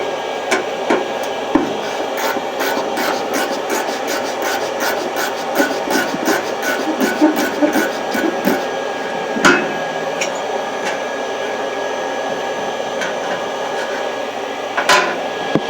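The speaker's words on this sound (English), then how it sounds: "Take the ratchet side of the wrench, put it right on there." A ratchet wrench turns a bolt on a heater during summer cleaning, sounding as rapid close clicking bursts that come in fast runs, then slow to a few scattered clicks and faint clatter.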